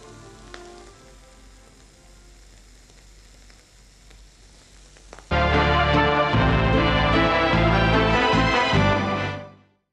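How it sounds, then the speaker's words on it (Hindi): Mutton mince cooking with tomato in a pan sizzles loudly and steadily, a dense frying hiss that bursts in halfway through after a quieter stretch, then cuts off near the end; no one speaks. "अब ये जो हमने टमाटर डाला था वो भी इस मटन के साथ कीमे के साथ पक रहा है"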